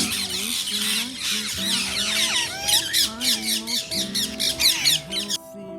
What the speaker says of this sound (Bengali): দেখো টিয়া পাখিগুলো মনে রোদ খাওয়াতে এসছে কতগুলো টিয়া পাখি